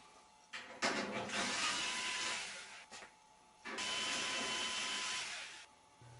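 Power screwdriver backing screws out of the top panel of a General Electric washing machine, two sustained whirring runs with brief pauses between, fairly close and moderately loud, no talk.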